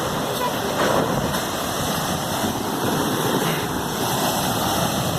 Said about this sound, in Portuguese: É um poço, está muito agitado hoje o mar.